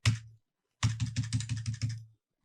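Ctrl+Enter pressed on a computer keyboard in accounting software: one crisp close keypress, a short pause, then a quick rhythmic run of about eight clacking keystrokes, with no talking.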